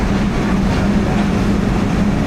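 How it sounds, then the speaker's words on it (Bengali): The Ovijatri commuter train from Gopalganj pulls into Kamalapur station in Dhaka at night, with a steady, loud rumble and low mechanical hum that carries on evenly throughout. "ট্রেন প্রবেশ করছে কমলাপুর ঢাকা স্টেশনে"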